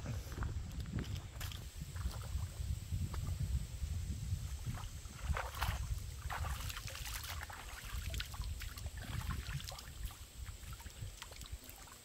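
Creek water at Mill Creek flows and trickles continuously with scattered splashes and ripples, a close, moderate outdoor rush lasting throughout.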